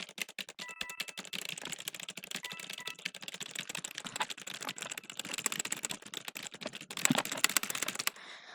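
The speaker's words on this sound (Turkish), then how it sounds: "Şu an öyle bir Q ve E'ye basıyorum ki" Rapid clicking of a computer keyboard, Q and E keys hammered during a Roblox Murder Mystery 2 game, dense close-up taps running steadily throughout with no talk.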